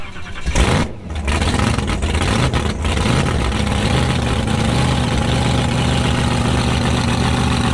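A drag car fitted with wheelie bars and a parachute fires up and settles into a loud, steady, rumbling idle that carries on unbroken, close by with no talking.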